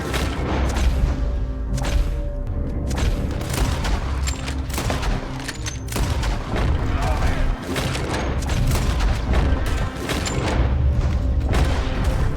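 Gunfire in a Red Dead Redemption 2 shootout in town: rapid repeated rifle and pistol shots and booms in irregular bursts throughout, with shouting voices mixed in.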